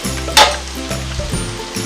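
Chicken varuval frying in a pan, a soft sizzle under a light clink of a utensil near the start, with a low steady background hum; no talking.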